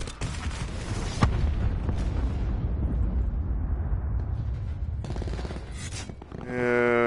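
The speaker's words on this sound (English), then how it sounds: "Hostile hellstorm inbound." Hellstorm missile strikes in the Call of Duty: Black Ops 4 video game, a sharp blast followed by a long rumbling barrage of explosions, loud and sustained, with another burst near the end.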